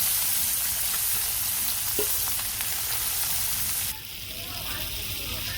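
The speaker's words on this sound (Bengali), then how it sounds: "তেল গরম হয়ে গেছে এখন মাছগুলো দিয়ে দিই" Small fish sizzle and crackle steadily in hot oil in a home kitchen, a dense, bright frying hiss that lasts throughout and drops a little in intensity near the end, with no talking.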